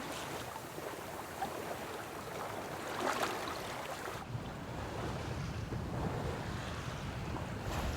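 A sailboat moving on a beam reach in a southerly breeze at about five knots, carried by a steady wash of water rushing along the hull with wind buffeting the microphone, continuous and even throughout.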